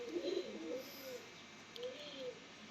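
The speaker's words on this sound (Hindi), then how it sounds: "उनके जो टैडी कबूतर हैं ये वो है।" Teddy pigeons cooing in a loft, two soft rolling coos close by at low level, with faint background noise and no clear talk.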